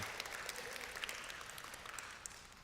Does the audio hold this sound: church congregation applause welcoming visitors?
yes